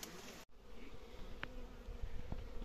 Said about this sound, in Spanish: Y aquí tenemos abejas, mira. En esta peña.